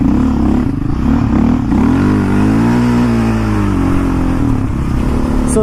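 A quad ATV with a manual clutch revs loud and near, its engine pitch rising and dipping as it shifts gears, with a rough, clattering drone that continues the whole time.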